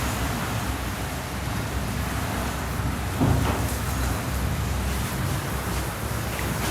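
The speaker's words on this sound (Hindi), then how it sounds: "बारिश बाहर हो रही है" Rain falls outside, a steady, broad rushing hiss that runs evenly through the whole stretch, with one brief louder gust or clatter partway through, with no talk.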